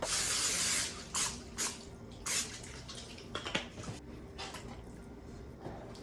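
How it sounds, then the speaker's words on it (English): A short hiss of nonstick cooking spray onto a nonstick pan, then a few quieter spritzes and small clicks in a quiet room. "I think I will put a little spray down"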